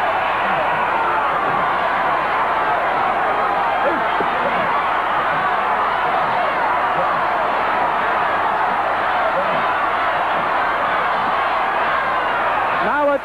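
A packed wrestling arena crowd roars steadily during a Ric Flair match, a dense sustained wall of cheering and shouting that stays loud throughout with no breaks.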